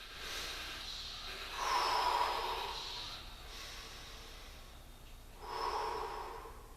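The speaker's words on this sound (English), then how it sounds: "breathing deeply in this restorative pose" Deep, slow breathing from a man holding a downward dog during a restorative yoga flow, with two louder, airy exhalations a few seconds apart over a quiet room, no talking.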